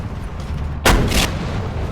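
A single heavy gunshot or cannon blast from a tank in a Thai-language military video game, a loud broadband boom lasting about half a second over a steady background hum.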